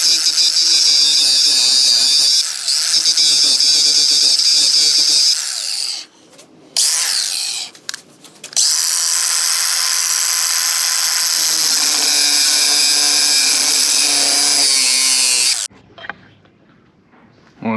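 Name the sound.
grinder grinding notch into K24 engine pump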